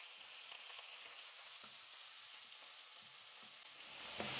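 Onions, slit green chillies and curry leaves sizzle steadily in a hot pan for pepper rice, a constant close frying hiss that swells slightly toward the end, with no voices.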